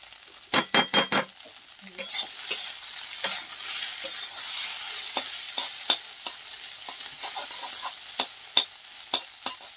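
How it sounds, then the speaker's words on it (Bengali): Steady sizzling of fish frying dry in hot oil, broken by a rapid series of sharp spatula scrapes and taps against the pan. "মাছটাকে আমি ঝুড়ি ঝুড়ি করে নিচ্ছি এবং ভালো করে শুকনো শুকনো করে ভাজা করে নেবো।"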